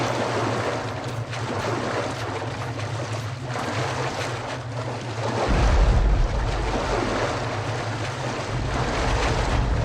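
Water in the Metro Last Light Redux video game makes a steady rushing, wind-like wash with a deep rumble that swells about halfway through, continuous and without voices.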